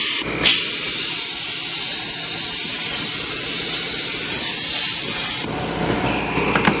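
An air-powered sprayer hisses steadily as it atomizes chainsaw bar oil thinned with gasoline for rust-proofing a Tacoma frame, one loud continuous spray burst lasting about five seconds, then a quieter tail.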